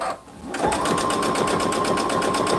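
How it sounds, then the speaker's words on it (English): Sewing machine stitching a quilt: after a brief hush, a close, steady, rapid mechanical whirring starts and runs evenly to the end, with no one speaking. "the throat space that we have been granted by our sewing machine"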